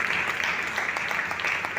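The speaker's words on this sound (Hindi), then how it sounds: "एक बार ताली मार के धन्यवाद को" Applause from a congregation at a Sunday church service, a steady dense patter of clapping filling the short stretch at moderate level with no voices over it.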